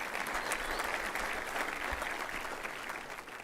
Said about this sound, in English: You can clap it up.